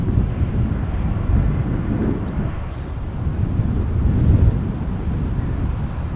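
A strong crosswind at Amsterdam Schiphol airport near the Polderbaan runway roars and buffets the microphone in a continuous low rumble, with loud gusts rising and falling throughout.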